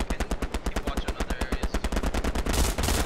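A machine gun in the WW2 shooter Hell Let Loose fires a steady, rapid burst of shots at an even rhythm. The fire is close and loud, with a denser blast of gunfire near the end.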